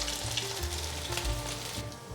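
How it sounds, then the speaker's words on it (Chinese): Tofu pan-frying toward golden brown for a vegan tofu and eggplant dish, a continuous close sizzle and crackle of hot oil at a steady level with no voices. "继续让它煎成焦黄色"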